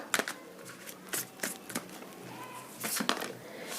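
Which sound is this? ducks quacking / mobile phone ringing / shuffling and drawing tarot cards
shuffling and drawing tarot cards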